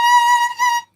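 A single bowed violin note held for under a second, a steady bright tone with strong harmonics and a slight dip midway, close and clear before cutting off.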